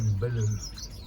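Birds in an outdoor aviary give a short burst of calls, a low cooing note followed by quick high chirps and tweets, close and fairly loud, while a person talks nearby.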